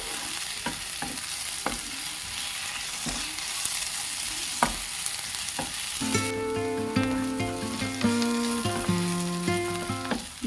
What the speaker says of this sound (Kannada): ಇದನ್ನು ಅಷ್ಟೇ ಹಸಿ ವಾಸನೆ ಹೋಗೋವರೆಗೂ ಎಣ್ಣೆಯಲ್ಲಿ ಫ್ರೈ ಮಾಡಬೇಕು.